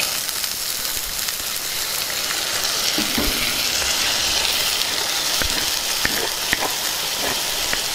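Soaked chana dal fries with onions in a pan, giving a close, steady sizzle and crackle throughout, with occasional clicks of a spoon stirring.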